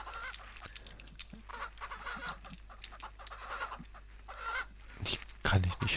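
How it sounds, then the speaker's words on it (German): Several roosters cluck and squawk in Ranch Simulator, a dense overlapping farmyard din, with louder honk-like bursts near the end and faint talking underneath. "Hähne laufen mir jetzt nicht noch im Weg rum."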